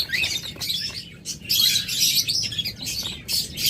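Small, active lovebirds kept for breeding chirp in quick, bright bursts close by. Several overlapping calls come and go in an irregular rhythm, with no voices.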